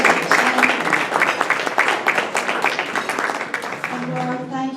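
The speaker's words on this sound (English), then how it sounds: "let's give you an applause" An audience claps in applause for Paul Harris contributors as they stand to be recognized, a steady, dense patter mixed with a speaking voice that carries through and then continues alone at the end.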